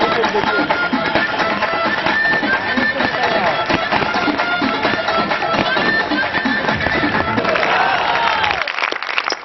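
A large live crowd at a stage show claps, shouts and whistles continuously as a guest walks on stage, a loud, dense roar of applause that fades out at the very end.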